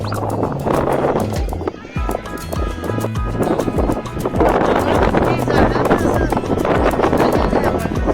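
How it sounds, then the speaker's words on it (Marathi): Horses clip-clop along during a horse ride on a Mahabaleshwar outing, hoof beats rhythmic and close amid wind and background voices. "horse riding race असल्यागत horse riding चालू आहे बा"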